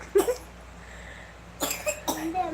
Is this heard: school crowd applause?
no